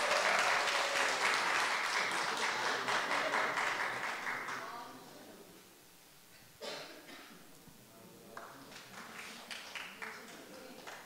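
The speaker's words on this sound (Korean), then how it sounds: "큰 박수로 한번 해주세요" An audience at a 2023 EDTS graduation ceremony claps loudly for several seconds. The applause then tapers off, followed by a few scattered later claps and some quiet room sound.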